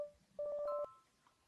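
A phone rings in the Obey Me! Shall We Date? video game, a short steady electronic trill with a pulsing warble that sounds once, fairly loud and alone.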